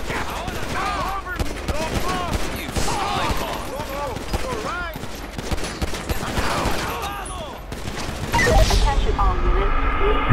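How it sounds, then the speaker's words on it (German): A wild gang shootout in GTA 5 with the LSPDFR police mod: rapid overlapping gunfire bursts and heavy fusillades crackle nonstop at close range, with a voice speaking over the shots. "Wilde Schießerei"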